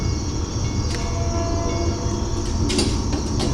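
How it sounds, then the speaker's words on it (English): A commuter train on the Port Jefferson Branch rolls into a station during the evening rush, a loud, steady rumble of wheels and cars with a few brief squeals and clanks, no talking. "And here comes train 1662 between Grand Central"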